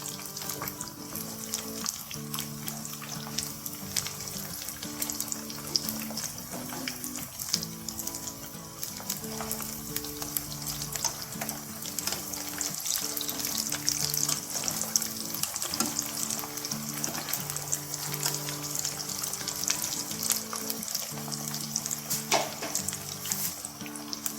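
Aloo tikki potato patties fry steadily in a pan, a continuous close sizzle and crackle with scattered pops running throughout, with a low tonal hum underneath and no talking.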